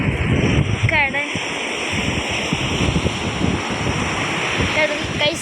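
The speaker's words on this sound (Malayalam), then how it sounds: "കടൽ" Sea waves at a beach in the evening, a steady wash of surf mixed with wind buffeting the microphone, with a few faint voices in the background.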